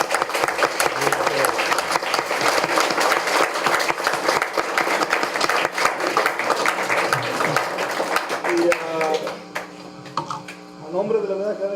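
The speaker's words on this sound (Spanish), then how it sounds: "Entonces le damos un aplauso." Sustained applause from a lecture audience in a hall after a talk on social science, a continuous wash of clapping that tapers off near the end as voices begin speaking.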